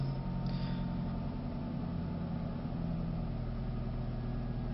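A Ford Focus 2.0 petrol engine idles just after a cold start, a steady low hum and drone heard up close without variation or voices.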